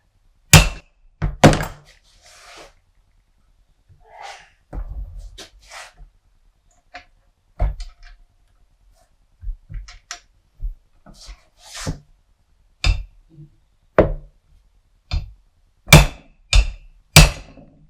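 Sharp metallic hammer blows on a Dodge D100 Sweptline brake master cylinder ring out in irregular bursts, some single, some in quick pairs, with quiet pauses between them.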